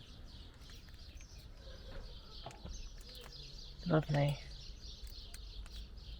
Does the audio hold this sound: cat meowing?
no